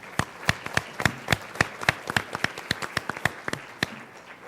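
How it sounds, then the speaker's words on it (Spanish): Scattered, fairly even claps from a small audience at a 2012 Blackboard conference panel discussion, sounding as a sparse run of distinct hand claps that thins out toward the end. "reitero la petición de un aplauso"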